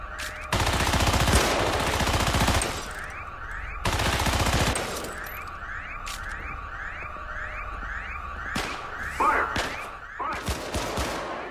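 Defense turrets in the Syndicate video game fire on security forces in loud, sustained automatic bursts, two heavy volleys followed by a steady stream of repeated shots with a rising mechanical whine.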